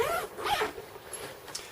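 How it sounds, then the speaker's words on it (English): A zipper closes on a UTG rifle gun case in a couple of quick, close rasping strokes, loud and alone. "I can easily close this without having to force the zippers."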